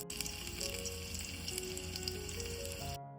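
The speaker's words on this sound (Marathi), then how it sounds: "तेल टाकलंय आणि आता लसूण टाकते" Garlic sizzles in hot oil in a pan while a Konkan-style dry fish dish is cooked, a steady close crackling hiss that carries on for about three seconds before cutting off.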